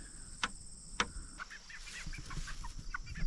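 Close, clear rooster calls from a curly-tailed, tall-combed bird, with two sharp crowing notes followed by a run of shorter clucking and squawking calls against faint background noise.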